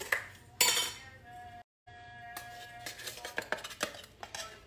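A measuring spoon clinks and scrapes against a container while scooping baking powder, a few light metallic taps and rattles close by with a brief silent gap.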